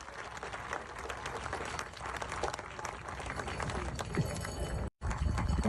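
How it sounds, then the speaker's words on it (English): Audience applause for a chief at a Georgina ceremony fills the space as steady, dense clapping from a large crowd, with a brief cut near the end before it resumes. "Let's give Gima a round of applause."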